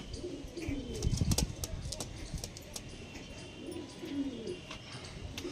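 A pigeon gives soft, low cooing calls in short bursts at close range, with faint chirps and some rustling or wing movement in a quiet setting, plus a brief muffled voice in the background.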